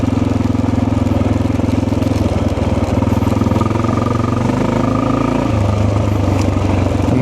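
A motorcycle fitted with a Dynojet jet kit runs loud and close, its engine thrumming steadily before the revs drop and settle into a lower throb near the end.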